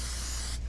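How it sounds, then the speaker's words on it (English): A steady, loud hiss of an aerosol non-stick cooking spray can sprayed onto a grill brush at a barbecue, continuous for under a second and cutting off near the end. "get some non-stick cooking spray"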